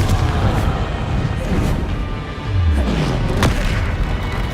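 Confringo blasts during combat in the Hogwarts Legacy video game, heard as a string of dull, booming impacts over dense, continuous battle noise.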